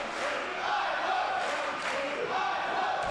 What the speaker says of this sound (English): An eye poke being chanted by the live crowd